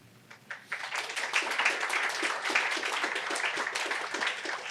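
An audience in a warm room claps together after a talk, a dense burst of hand claps rising after a few scattered early claps and holding steady to the end.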